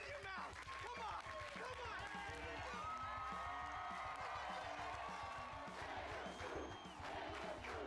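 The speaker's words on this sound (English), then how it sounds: "Sensing our troubles, the crowd rallies around us." A video game crowd rallies with cheering and battle cries, a dense, steady roar of many voices that holds loud throughout with shouted calls rising above it.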